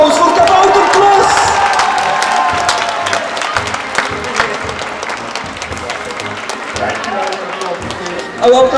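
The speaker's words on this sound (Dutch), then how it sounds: "Daarvoor een applaus voor Kabouterklus!" Indoor crowd at Plopsa Indoor Hasselt applauding and cheering for a 75th birthday celebration, a loud continuous wash of clapping with whoops and children's voices, fading slightly before a burst at the end.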